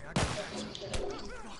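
Gunfire in The Last of Us, two sharp shots about a second apart, moderately loud over game background.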